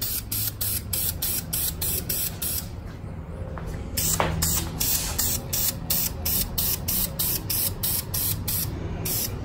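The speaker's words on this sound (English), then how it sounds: "Just a real mist." A light misting spray coat hisses steadily from a sprayer in a garage, in short repeated pulses that run nearly continuously at moderate level with no talking.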